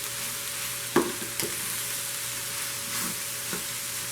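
Chicken and cauliflower fried rice stirred in a pan, with a few faint scrapes and clinks of the utensil against the pan over a quiet, steady background.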